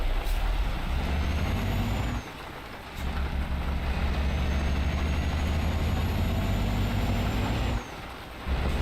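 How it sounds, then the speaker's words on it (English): A bus rumbling past on the road with steady low engine drone and a hissing air brake release, loud and close throughout, no voices. "Bus going by"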